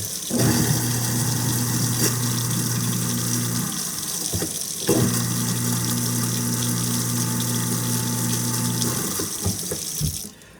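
A garbage disposal motor hums and grinds under running water, running twice with a short pause between, loud and close.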